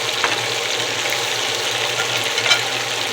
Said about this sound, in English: Remember, it's cooking oil in here, so it's popping